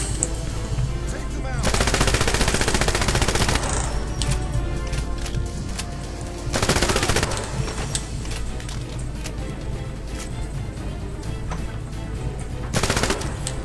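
Rapid automatic gunfire from the video game 007 Legends, set at Fort Knox in the Goldfinger level, comes in loud sustained bursts with a steady mechanical chatter between them.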